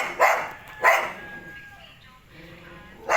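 Dogs bark in a rural Philippine yard, two quick sharp barks close together, a quiet stretch with faint yips, then another bark at the end.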